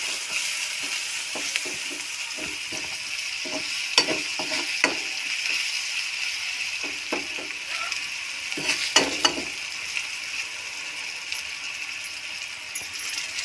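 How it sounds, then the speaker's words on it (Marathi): A crushed spice mixture fries in oil for a Maharashtrian bean pod dish, giving a steady close sizzle with scattered clicking and scraping stir taps throughout, no talking. "हे कुटलेलं आपण टाकून दिलं आता तेलामध्ये फ्राय करून घ्यायचं"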